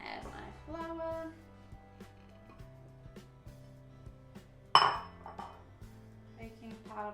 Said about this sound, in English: just give those a stir because that'll impart the lovely lemon oils into the sugar